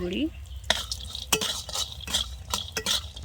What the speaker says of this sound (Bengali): বড়িগুলো ভেজে নিয়েছি, তুলে নেব